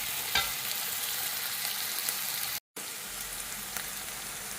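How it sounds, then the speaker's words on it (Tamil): Onions for a chicken curry sauté in hot oil, producing a steady, dense close sizzle with faint stirring. The sound cuts out for a split second partway through. "வெங்காயம் வதங்கிட்டுருக்கு"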